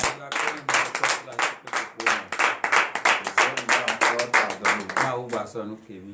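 A congregation claps in acclamation during a morning prayer service in Benin, a rapid, fairly even run of hand claps lasting several seconds, moderately loud in the room.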